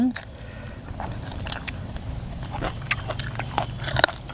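Someone chews hard pork cracklings in an open rice-field setting, crunchy bites repeating irregularly and close by, with a voice speaking over them.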